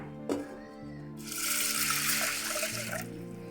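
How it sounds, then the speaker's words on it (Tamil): Water running from a tap into a pressure cooker holding about 200 grams of lentils, a steady close splashing stream that starts abruptly after a brief clatter and continues to the end. "தண்ணி ஊற்றிக்கலாம்"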